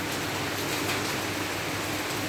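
Steady, dense hiss of heavy rain pouring down, a continuous wash of sound with no voices.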